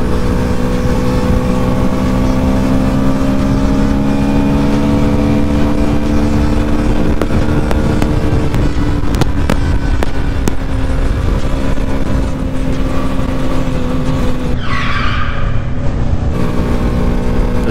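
A Lexmoto LS-Z 125 motorcycle rides steadily around town, its engine droning loud and constant throughout with rising and falling harmonics, and a brief higher whine or hiss near the end.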